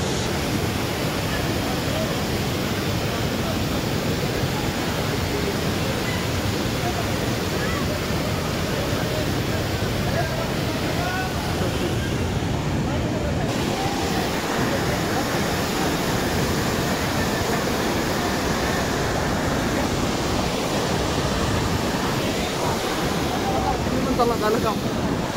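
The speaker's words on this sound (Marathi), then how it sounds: "आता तुम्ही बघू शकता सेंटर पासून सगळा धबधबा, पूर्ण धबधबा बघू शकताय." Savatkada waterfall roars steadily, a loud, dense rush of falling water that holds constant without a break from start to finish.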